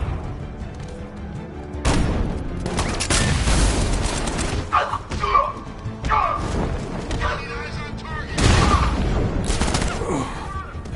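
Bursts of gunfire erupt in a Batman film shootout, loud rapid volleys with booming impacts, broken by shouted voices between the shots.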